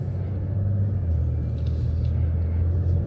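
A BMW 840 luxury car's engine produces a steady, deep low rumble while driving, continuous and fairly loud inside the cabin throughout.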